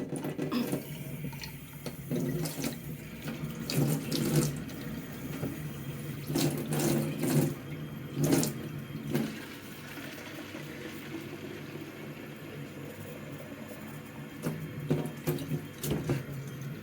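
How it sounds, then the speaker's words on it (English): Tap water runs into a sprayer in intermittent bursts, gurgling and splashing close by, pausing and restarting several times, with no talking. "I'm going to fill it up with"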